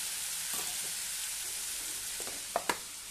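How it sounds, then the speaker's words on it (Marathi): Potato pieces frying in oil in a pan, a steady soft sizzle running throughout with a few brief scraping stir clicks near the end. "बटाटाही छान आपल्या तेलामध्ये परतला आहे"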